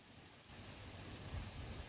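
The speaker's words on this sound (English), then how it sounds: "the wind is coming from an easterly direction" Steady, faint easterly wind rushing by a fence, a broad hiss with low rumbling gusts buffeting the microphone, no voices.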